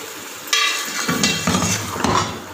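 Beef being stir-fried with garlic and ginger for a beef qorma, a spoon clanging against the pot in three or four sharp scrapes and knocks over a soft sizzle, close and fairly loud.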